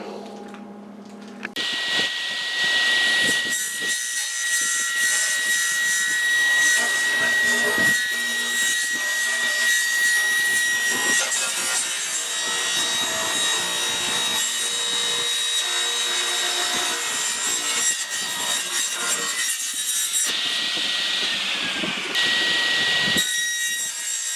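Power tool cutting a wooden board, an initial 36-inch cut, for a mountain dulcimer case in a woodworking shop; a loud, sustained, steady whine with a high tonal ring runs for over twenty seconds after a brief quiet start.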